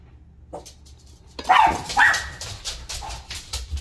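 A dog barks a few times nearby, sharp yips and whimpery barks over a low background hum.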